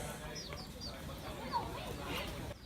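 Soft, scattered clucking from several chickens at a moderate distance, with a brief louder cluck midway over steady low background noise, at a house with pet turkeys and chickens.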